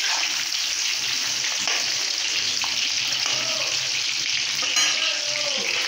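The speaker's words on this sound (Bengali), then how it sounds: "গরম হয়ে গেছে, দিয়ে দিচ্ছি কয়েকটা কাঁঠাল ছেড়ে দিলাম" Jackfruit pieces fry in hot oil with a continuous, dense sizzle and crackle that holds steady throughout.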